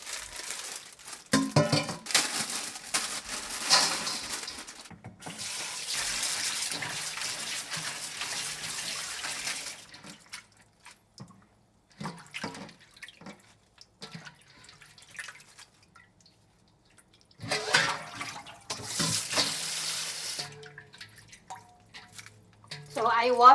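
Mung bean sprouts rinsed under a running tap: bursts of splashing water with handling and crinkling in between, separated by quieter gaps and a few drips.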